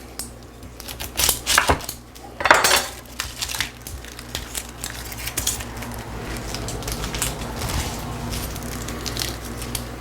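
A knife cuts through a Vidalia onion on a cutting board, with a few crisp chopping and crunching strokes near the start followed by softer scraping and rustling of the onion, close and clear.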